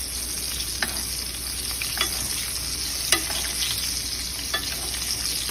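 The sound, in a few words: blackened salmon basting in hot sizzling butter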